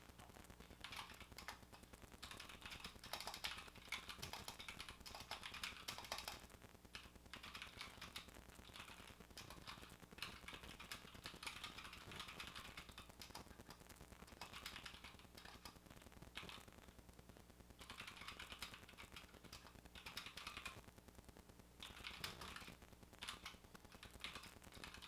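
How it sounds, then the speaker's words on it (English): Continuous typing on a Canonkeys Bakeneko60 mechanical keyboard, a quiet, dense clatter of keystrokes close by, steady throughout with brief pauses. "So we're gonna do a quick type test, see how it sounds"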